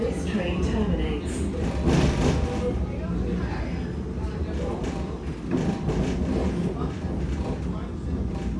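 A TfL Rail Class 345 electric commuter train rumbles steadily along with low mechanical roar and rattling, continuous and fairly loud, with faint voices in the background.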